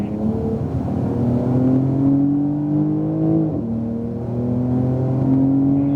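Porsche 911 Turbo S engine pulling hard on a racetrack, a loud, close, steady rising drone with a brief dip near the middle as the revs shift, then climbing again.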